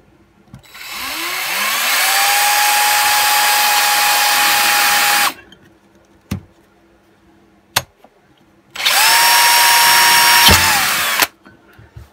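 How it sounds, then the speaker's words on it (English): A power drill bores through a plastic part of a Stihl BG86 leaf blower in two loud, close bursts, the motor winding up to a steady whine and then spinning down, with a few clicks between. "see if we can just drill this."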